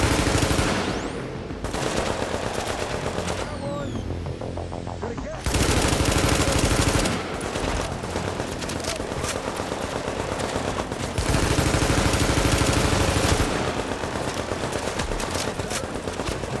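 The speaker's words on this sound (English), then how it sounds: "What's with these sentry guns" Sentry guns in The Division fire long sustained automatic bursts, loud and continuous with brief pauses between strings of shots and a voice speaking intermittently over the fire.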